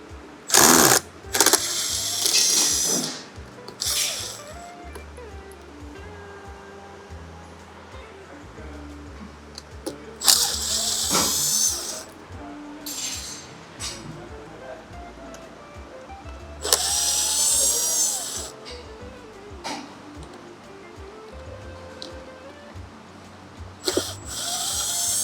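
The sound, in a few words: Phillips screwdriver removing radiator grille screws on electric motorcycle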